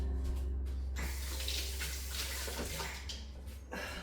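Tap water runs steadily from a kitchen faucet as a teaspoon is rinsed while cooking, a close, continuous splashing stream that rises briefly and stays loud throughout.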